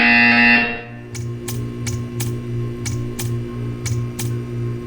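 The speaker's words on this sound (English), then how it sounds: "When you hear the buzzer, stare at the art." A steady electronic tone drones while a series of sharp buzzer-like clicks repeat at a quick, slightly irregular pace, from the video game Portal 2.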